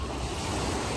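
Steady roar of sea surf in the evening with heavy wind buffeting the microphone, constant and loud throughout with no voices.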